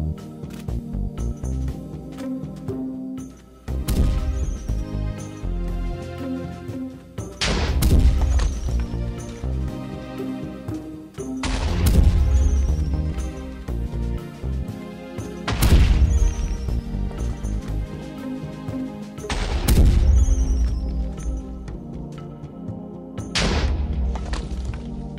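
Mortar artillery in Minecraft Custom NPCs firing explosive projectiles, heavy booming blasts landing every few seconds over a steady musical background, loud and close.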